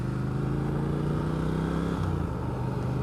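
Retro Triumph Speed Twin motorcycle with upgraded suspension riding on back roads, a steady moderate engine drone held at even revs with low rumble, no voices.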